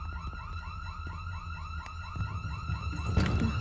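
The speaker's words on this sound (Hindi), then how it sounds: "सायरन क्यों बज रहा है?" An alarm siren wails steadily indoors in an office building, with rapid repeating rising sweeps that carry on without a break and grow slightly louder toward the end, alone without speech.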